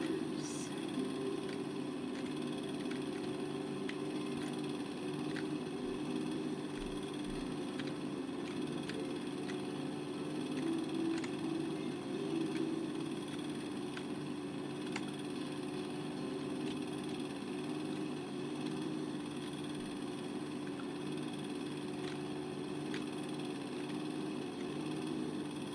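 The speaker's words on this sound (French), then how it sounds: "Je vous laisse profiter de la tondeuse." A lawn mower runs steadily in the video game House Flipper, a continuous mid-pitched engine drone with faint clicking, even and unbroken throughout.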